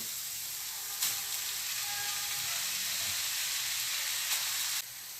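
Tomatoes sizzle steadily in a hot pan for a Turkish pasta sauce, a continuous bright frying hiss with a couple of sharper crackling bursts, close and alone with no talk.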